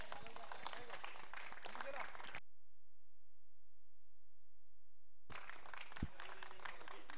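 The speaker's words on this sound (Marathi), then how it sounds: "एकदा जोरदार टाळ्या" Crowd applause at a gym premier league prize ceremony, a dense crackle of clapping that stops abruptly into silence, then starts again, loud and close.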